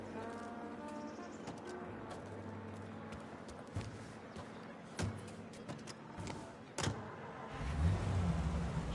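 A car driving in the Mafia game, engine rumbling steadily under ambient city noise, with a few louder thumps and a rising low engine surge near the end.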